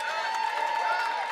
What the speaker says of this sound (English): Give him man some more claps.